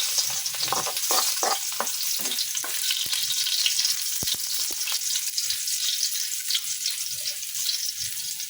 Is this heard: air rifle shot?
no